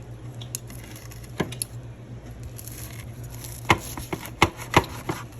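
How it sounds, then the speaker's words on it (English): A knife slices through a fried ham and cheese sandwich on a board, with a series of close, crisp crunching cuts and taps that cluster more densely toward the end over a low steady hum. "we're going to cut these in 4s"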